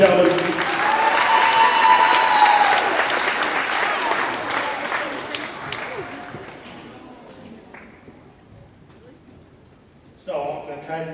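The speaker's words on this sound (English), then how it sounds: "give him a round of applause, ladies and gentlemen" An audience at a high school boys wrestling senior night applauds the head coach, a loud sustained burst of clapping from a gym crowd that slowly fades out, followed by a brief spoken remark.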